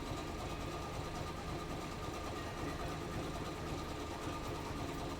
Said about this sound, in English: I do like the sound the embroidery machine makes